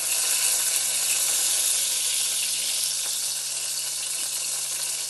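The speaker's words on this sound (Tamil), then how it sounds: "இப்போ எண்ணெய் சூடாகிடுச்சு, நம்ம இதில் கருவேப்பிலை போட்டுடலாம்." Curry leaves dropped into hot oil in a pan for an Andhra-style mutton liver curry, giving a loud, dense, continuous crackling sizzle that holds steady and eases slightly toward the end.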